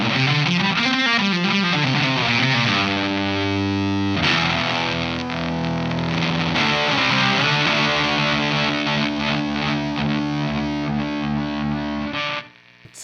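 An electric guitar runs through a Seeker Lineage MK I distortion pedal set to very high gain and loud level, thick fuzzy chords and sliding notes sustaining for over twelve seconds before cutting off.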